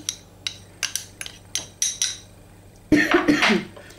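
Spoon clinking repeatedly against a large bowl while stirring melted coconut oil for a homemade baking soda deodorant, sharp regular taps followed by a louder burst of scraping and clatter near the end.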